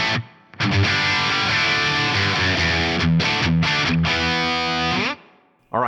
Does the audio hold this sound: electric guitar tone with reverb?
yes